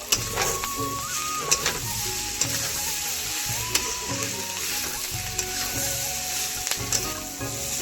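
Egg bhujia is stir-fried in a pan with a steady, fairly loud sizzle, while a spatula scrapes and clicks against the metal every second or so. No one speaks.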